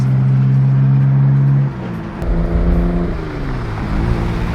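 An R32 Skyline GTR with a new exhaust revs loudly and close, holding a steady drone before dropping, then rising and falling again through several sweeping pulls.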